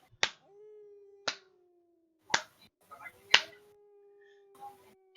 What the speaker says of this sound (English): you hear a slow clap